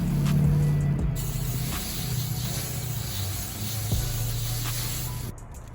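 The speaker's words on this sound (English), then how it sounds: "I'm gonna just spray this with some coconut oil." Coconut oil sprayed from a can onto salmon fillets on a grill, a steady close hiss lasting several seconds over low hum, with brief pauses and no talking.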